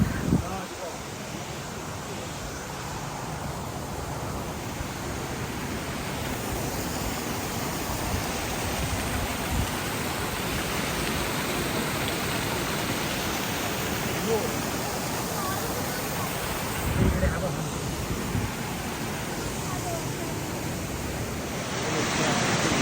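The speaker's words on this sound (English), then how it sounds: "It's called the waterfall." Steady broadband roar of Multnomah Falls waterfall on a hiking trail near a bridge, continuous and loud throughout with wind buffeting the microphone.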